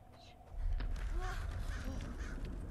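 Bird calls in the Unreal Engine 5 PS5 tech demo, several short cawing, honking cries over a steady low rumble, mid-distance and moderately loud.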